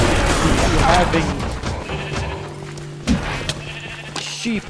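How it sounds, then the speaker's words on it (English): Sheep summoned by enchanted grass bleat in the video game Minecraft Dungeons, a few short bleats among game combat noises, with a person talking over them. "So right now I have two sheep, which is the enchanted grass."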